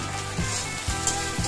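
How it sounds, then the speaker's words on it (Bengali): Bitter gourd frying in oil in a pan, a steady close sizzle with soft periodic stirring scrapes and no voices. "দেখবে এই যে উচ্ছেটা একটু ভেজে নিলাম, প্রায় 5-6 মিনিট ভেজে নিয়ে তারপরে বেগুনটা দিয়ে দেব।"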